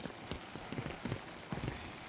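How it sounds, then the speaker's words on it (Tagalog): Heavy rain falling outside a house in South Korea, a faint steady patter with soft irregular drips and splashes on surfaces, no voices. "Grabe, ang lakas ng ulan."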